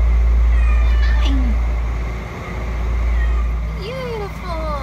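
Feral cats at a trap-neuter-return site meow twice, short rising and falling calls standing out over a loud low rumble and a faint background voice.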